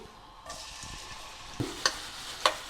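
Minced onion fries in olive oil in a ceramic pan, a low sizzle starting after a short pause, with a few sharp clinks and taps over it and no talk.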